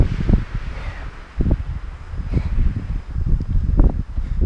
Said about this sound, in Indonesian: Angin di sini cukup keras.